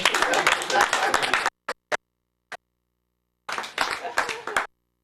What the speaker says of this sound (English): Are we going to clap for them?